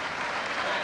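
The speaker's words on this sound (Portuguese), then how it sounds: "E a terceira alteração com a saída do Domingues. Muito aplaudido." A stadium crowd at an under-21 international football match between Portugal and England applauds a substituted player, a brief burst of broad, distant clapping blended with a commentator's voice.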